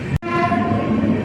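Dhauli Express on the Puri–Howrah route pulling out of Sakhi Gopal station: a brief loud burst, then a sustained horn-like tone over rolling rumble, close by.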